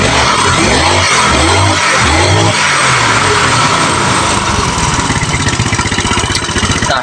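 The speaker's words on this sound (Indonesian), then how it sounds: "untuk suara knalpotnya sudah aman," A motorcycle engine idles loudly and close, running through a repaired aftermarket exhaust whose broken mounting bolt has been fixed. Its rough, rapid pulsing stays steady throughout with no leak noise.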